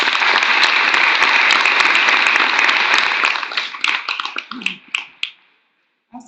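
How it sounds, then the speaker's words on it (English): An audience at a city candidate forum gives a round of applause, a dense burst of clapping that thins into scattered individual claps before fading to silence. "let's show our appreciation with a round of applause"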